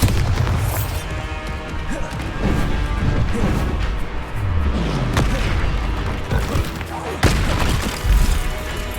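Confringo and Bombarda spell explosions in Hogwarts Legacy, a dense continuous barrage of booms, crashes and bursts layered over rumbling combat noise, loud and close throughout.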